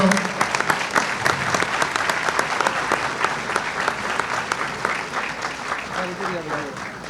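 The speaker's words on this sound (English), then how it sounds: "A round of applause for our Grand Marshal." An audience at a Greek gala in a ballroom applauds the Grand Marshal, dense clapping with scattered sharp claps and crowd noise, sustained throughout at a moderate, even level.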